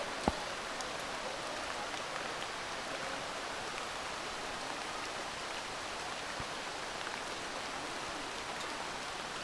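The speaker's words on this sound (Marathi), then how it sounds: "हे बघा हा पर्य आहे पाऊस पडतो एकदम" Steady rain falls beside a swollen village stream, a soft, even hiss of drops and flowing water, faint and uniform throughout with no talk.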